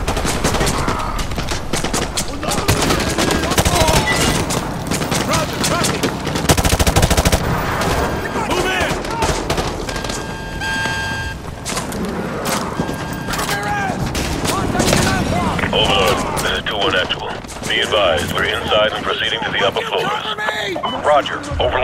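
Sustained heavy gunfire in the video game Call of Duty Modern Warfare 2 Remastered, with rapid machine-gun bursts, rifle shots and explosive booms throughout, loud and dense, while soldiers shout orders over the battle.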